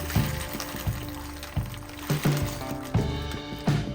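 Cooked elbow macaroni is strained, the pasta water pouring and splashing steadily into a sink for several seconds, close and continuous with gurgling surges.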